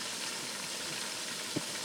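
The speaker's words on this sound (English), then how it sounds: "it is frying beautifully" Oil frying in a pot on the stove while making agusi stew, a soft continuous sizzling hiss, fairly quiet and steady, with one brief low knock near the end.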